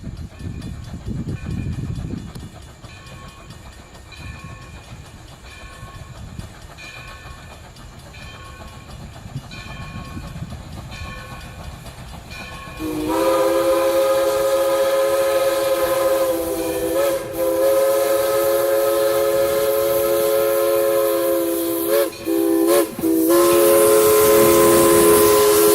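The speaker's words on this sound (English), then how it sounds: "catch another steam locomotive in action" Steam locomotive 60 on the Black River and Western railroad rumbles along at first, then sounds a loud, sustained steam whistle over the continuing running noise, with a few brief breaks in the tone.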